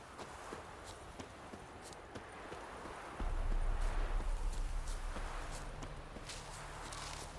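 Horse hooves clip-clop steadily while riding in The Witcher 3, a continuous walking rhythm that swells louder halfway through under a low rumbling bed of game ambience.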